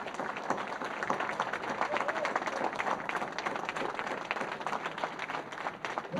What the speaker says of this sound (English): a standing applause